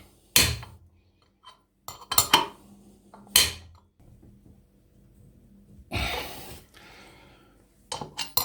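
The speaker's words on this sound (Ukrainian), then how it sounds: "я тако беру молоточок і так попробую зараз, щоб просто болтик зірвати з місця" A small hammer strikes a bolt on an LG F-1220TD washing machine drum during a home bearing repair: several sharp metallic taps come in uneven bursts, separated by quiet pauses and faint handling noise.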